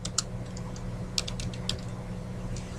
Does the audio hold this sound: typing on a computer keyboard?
yes